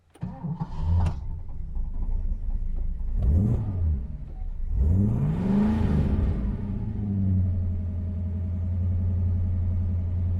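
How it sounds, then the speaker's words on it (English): Ford Falcon XD with a 4.9-litre V8 cranks with a whirring starter, fires and catches, then settles into a steady, deep rumbling idle, close and loud with no talking. "really it has become time to start the engine."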